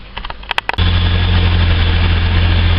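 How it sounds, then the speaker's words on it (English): A car engine idles steadily and loud, a constant low hum with a faint whine on top, after a few brief clicks and knocks at the start. "So now that this engine's running"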